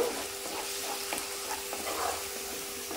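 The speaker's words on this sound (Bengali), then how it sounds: "এবার আমি মশলাটা ভালো করে কষিয়ে নেব।" Spice paste of cumin, coriander powder and salt fries in a pan with a steady close sizzle, while a spoon scrapes and stirs it in light, repeated strokes.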